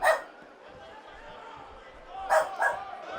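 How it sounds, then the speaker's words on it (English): A dog barks at the start and again twice near the end, short sharp yips standing out over a steady background of wrestling game commentary and talk. "What are you barking at, bud?"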